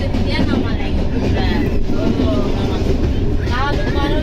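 A loud, constant low rumble of a moving train carriage in Bangladesh fills the space, with voices talking faintly over the noise.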